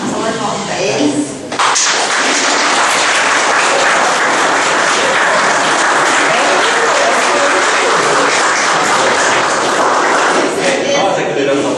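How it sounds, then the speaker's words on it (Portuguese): Loud sustained applause from an audience at a Spiritist centre talk, thanking the two speakers, Marcelo and Dodói. A brief voice comes at the start before the clapping swells and stays full and even, tapering near the end. "Uma salva de palmas para eles."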